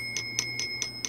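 A small antique bell, nearly 200 years old, struck over and over by a little hammer: five evenly spaced bright rings about a fifth of a second apart, clear and close over a low steady hum.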